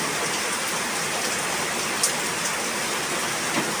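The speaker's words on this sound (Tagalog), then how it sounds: "Basta ulan." Steady rain falls continuously, a dense, even hiss of drops on surfaces with a couple of slightly louder splashes and no voices.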